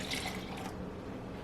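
Water poured from a measuring cup into a blender jar already holding cherries and almond milk for a vanilla Shakeology shake, a short splashing hiss lasting under a second before fading to quiet room tone.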